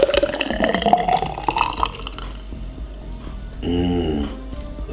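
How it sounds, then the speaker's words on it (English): A blended cleanser drink glugs and splashes as it's poured into a glass, a short liquid stream rising in pitch as the glass fills, coming after some clattering kitchen noise. "Now we're going to pour it in like this."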